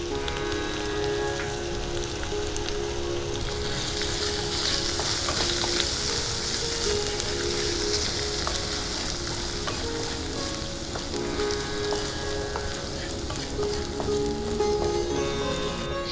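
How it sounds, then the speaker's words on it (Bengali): Ginger paste sizzling and frying steadily in a pan as dry spices are stirred in for a vegetarian pointed gourd curry, a dense, loud, continuous hiss close by with occasional small spatters. "আদা বাটাটা একটু নেড়ে চেড়ে আমি মশলাগুলো দিয়ে দিচ্ছি।"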